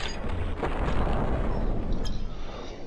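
A grenade launcher round from People Playground explodes in a loud, close, rumbling blast that rolls on and fades over a few seconds.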